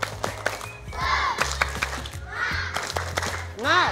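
Children perform a rhythmic clapping cheer, tepuk semangat, with sharp clustered claps in patterned bursts mixed with loud young voices chanting and shouting; the group sounds close and lively.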